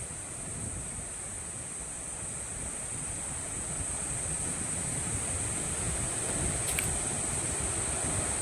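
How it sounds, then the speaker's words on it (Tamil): Steady natural wind across an open mountaintop along a forest trek at Yogulaparvatham, a continuous broad rushing hiss at an even level with no voices. "இங்கே இருக்கிற அந்த நேச்சுரல் காற்றோட சவுண்டை கொஞ்சம் நேரம் கேட்டு பாருங்களேன்"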